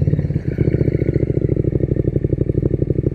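Triumph Speed Twin 1200 motorcycle with a Zard 2-into-1 exhaust, close and loud, its engine throbbing in a rapid even pulse while turning, with a slight rise near the start.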